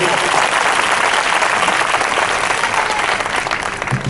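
A church congregation clapping loudly for the Lord, dense sustained applause from a large crowd that holds steady and tapers slightly at the end.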